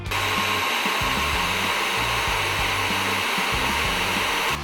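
A Felisatti FE-2000 EM electric heat gun blows hot air in a loud, steady, continuous roar with a slightly wavering low hum, running alone without pauses.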